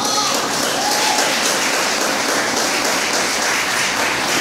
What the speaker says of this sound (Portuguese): Aplaude aí, Jesus.